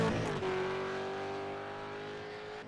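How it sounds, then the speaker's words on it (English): A Supercars Mustang engine in a racing video game at Montreal holds a steady, slightly falling high-pitched drone through a chicane after a brief throttle blip, fairly loud and alone. "You can hear the hesitation on the throttle"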